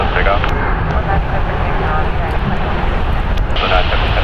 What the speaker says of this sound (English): Double takeoff.